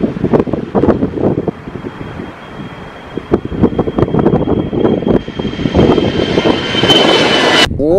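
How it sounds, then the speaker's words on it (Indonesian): A loud Citilink passenger airplane's jet engine roars steadily with gusty wind buffeting the microphone, rising toward a sharp whine near the end. "Pesawat Citilink"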